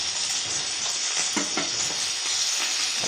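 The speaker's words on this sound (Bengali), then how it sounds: "এদিকে হচ্ছে আমার বেগুন ভাজা।" Slices of eggplant fry in a pan with an even, continuous sizzle, joined by a few faint clinks of stirring and no talk.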